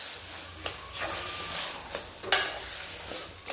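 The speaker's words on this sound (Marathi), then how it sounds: "इथं मी मीठ ऍड केलंय आणि व्यवस्थित परत एकदा हलवून घ्यायचं" Salted baingan bharit, mashed eggplant, stirred in a pan, soft scraping strokes with a few sharper clacks of the spoon at irregular moments over a faint low sizzle, close by and fairly quiet.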